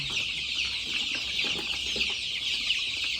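Desi chicks and chickens at a poultry farm cluck and cheep in a steady, dense chatter, close and continuous, with no voices over it.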